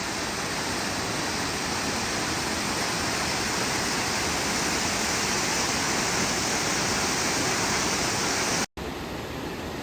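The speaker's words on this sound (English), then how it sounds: "This river comes from the falls and it goes all the way over there." A large river flowing down from a waterfall on Dominica makes a steady, dense rushing roar, close and unbroken for nearly ten seconds before cutting off sharply near the end.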